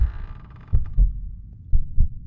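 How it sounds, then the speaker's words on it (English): Loud, deep heartbeat thumps from a horror video game, sounding as paired double beats in a slow steady rhythm over a low droning hum, with no talking. "That heartbeat is loud."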